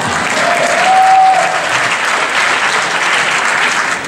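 Dense, loud audience applause at the IFFR 2015 film festival, a continuous wash of many hands clapping close by at an even level throughout.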